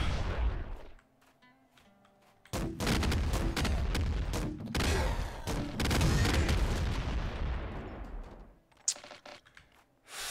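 A plasma cannon fires in a video game as loud bursts of booming, crackling blasts. They come in long sustained stretches with brief gaps between, close and heavy.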